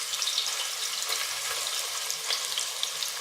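Chopped medium onions fry in a pot for a village-style chicken curry, a dense, continuous close sizzle with faint crackles and occasional stirring, no voices.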